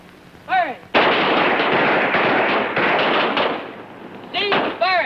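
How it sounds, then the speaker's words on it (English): Rifles on a firing range let go in a dense, roaring volley that rolls on for several seconds, with shouted voices just before and just after. "Ready on the firing line. Commence. Firing."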